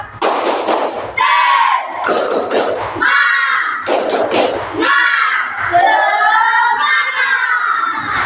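Schoolchildren repeat the tepuk semangat clap chant together, a loud chorus of shouted syllables alternating with crisp bursts of clapping, close by and energetic, with short gaps between sections.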